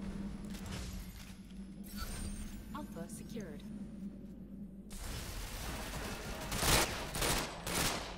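Gunfire in the Ghost Recon Phantoms video game, several bursts of rapid shots with louder cracks toward the end, mixed with game effects and someone talking over it.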